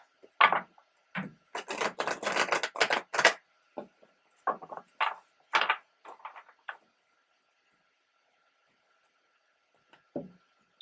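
Tarot cards are shuffled in quick, papery riffles and taps, a busy flurry that slows to a few scattered flicks before falling quiet.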